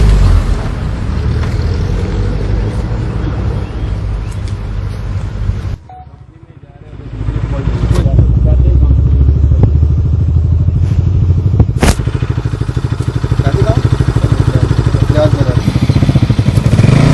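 A motorcycle engine runs loudly and steadily at close range during a roadside traffic check, cutting out briefly before resuming, with people talking over it.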